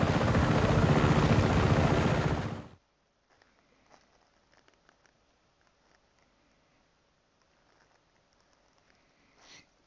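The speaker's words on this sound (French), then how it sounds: "L'hélico, mon frère." In the video game Just Cause 3, a helicopter roars loudly and close with heavy rotor thumping, then cuts off abruptly. Faint scattered footsteps and small sounds follow in near-silence.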